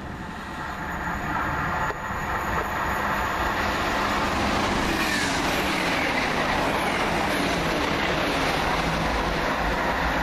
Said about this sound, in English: 1 Bravo 35 from London Paddington to Swansea via Banbury, Oxford, Swindon and Bristol Parkway.